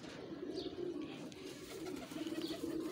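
Male pigeons coo in soft, repeated rolling calls over a steady background hum, faint and slightly distant.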